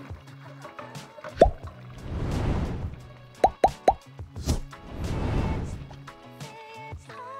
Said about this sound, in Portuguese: Agora é só acrescentar o quiabo aqui dentro.